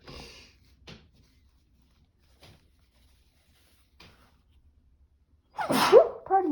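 A single loud sneeze erupts near the end after several seconds of near silence broken by faint soft taps, close and sharp with a breathy intake before the burst.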